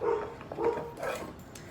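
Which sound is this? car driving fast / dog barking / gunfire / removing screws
dog barking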